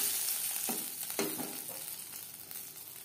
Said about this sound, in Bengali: ফোড়নের জন্য দিয়ে দিলাম 3টে শুকনো লঙ্কা।